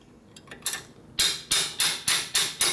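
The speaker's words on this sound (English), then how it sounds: "Beat it with a hammer." A hammer beats on a part of a 1957 Harley-Davidson panhead engine during a head conversion on a drag bike. A few light taps lead into six loud, evenly paced metallic blows, struck close by with no talk.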